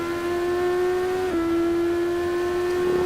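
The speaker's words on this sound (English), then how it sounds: "Okay, he's now going full throttle again." Race car engine held at full throttle in a virtual racing game, a steady loud tonal drone that dips briefly in pitch at a gear change before holding steady again, with no talk.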